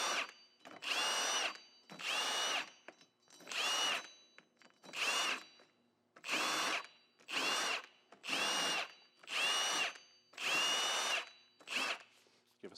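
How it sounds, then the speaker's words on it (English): A drill spins a Hub Buddy attachment against a Subaru WRX STi rear wheel hub, cleaning off rust in about ten short whirring bursts separated by brief pauses, close and steady. "we're going to take our hub buddy, clean up the hub a little bit"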